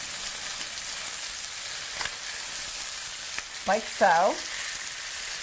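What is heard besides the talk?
chicken thighs sizzling as they are flipped in pan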